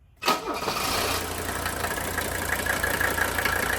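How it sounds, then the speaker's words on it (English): A Mercedes diesel wagon cranks briefly and fires up, then settles into a steady, loud, slightly rough diesel idle that continues to the end. "he's going to crank the car up"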